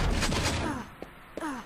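Shotgun fire rings out in an online team deathmatch match. A quick cluster of sharp blasts opens, then two short isolated cracks follow, fairly close and moderately loud.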